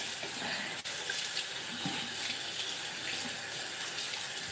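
Tap water runs steadily into a sink for hand washing, a constant close hiss and splash with no speech.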